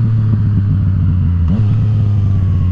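Motorcycle engine pulling hard in third gear during wheelie practice, a loud close steady drone with a brief pitch dip and recovery midway.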